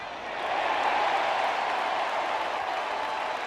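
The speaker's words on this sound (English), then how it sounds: "Listen to this crowd at Comerica Park." A baseball crowd at Comerica Park during a Royals vs Tigers regular-season game: a broad wash of cheering and applause that swells early, then stays loud and even.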